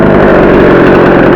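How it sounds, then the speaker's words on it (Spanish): A chainsaw engine runs during high tree pruning of a carob tree, a loud close continuous buzzing drone with steady throttle, no talk over it. "subo la motosierra"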